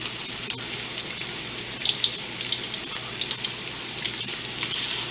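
Bacon frying in a pan, giving a steady close sizzle dotted with sharp crackles and pops and a faint low hum underneath, with no voices.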